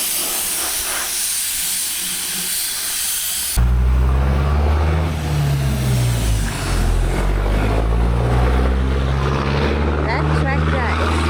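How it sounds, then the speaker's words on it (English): A loud tractor engine rumbles steadily close by after a sudden start, a low droning hum with hiss, outdoors near a rusty Land Rover, with people talking over it. "That tractor is loud."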